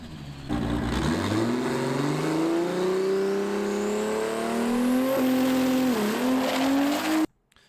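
A turbocharged drag car launches and accelerates hard down the strip, its engine note climbing steadily in pitch as boost builds, loud and continuous for about seven seconds before cutting off abruptly; no voices.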